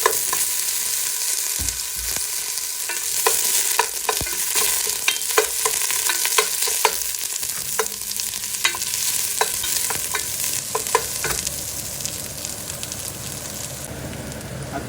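Marinated chicken sizzles loudly in heated oil, a steady frying hiss with sharp crackles and spatters throughout, close up and alone with no talking.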